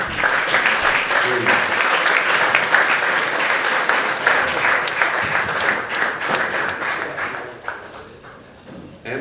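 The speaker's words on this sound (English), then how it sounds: "please, a round of applause for our cypherpunk Calle" Conference audience applauding at BTCPay Day 2024 in Riga, a loud, dense burst of clapping that holds steady for several seconds before tapering off near the end.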